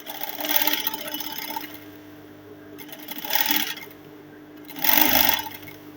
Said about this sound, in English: and then I'll lay this everything towards the lining part and then top stitch it